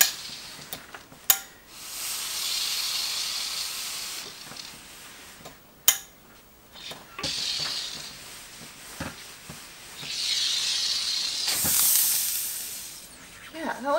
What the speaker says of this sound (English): So, I'm gonna do a lot of steaming.